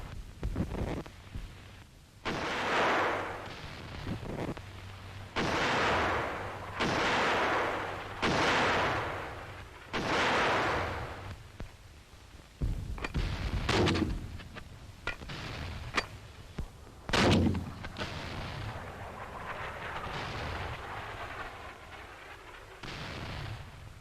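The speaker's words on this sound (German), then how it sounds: "vernichtet in direktem Schuss ein feindliches Widerstandsnest." A series of loud, booming gunshots from a German infantry gun firing direct shots, repeated at uneven intervals, with wind noise and rumbling echoes between.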